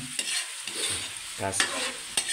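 Coconut milk cooks down into latik in a pan, with a loud bubbling sizzle and a few sharp stirring scrapes.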